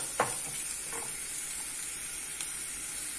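Onions cook in a pan for a chicken sandwich, giving a soft, steady sizzle close by with a few light scrapes and taps from stirring.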